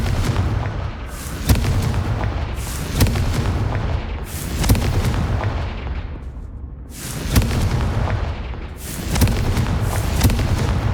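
Repeated booming blasts of the Confringo fire spell in the Hogwarts Legacy video game, loud deep explosions roughly every one to two seconds over a constant rumbling game soundscape, with no talking.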